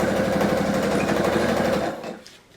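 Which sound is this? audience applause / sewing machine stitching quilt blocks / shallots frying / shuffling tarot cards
sewing machine stitching quilt blocks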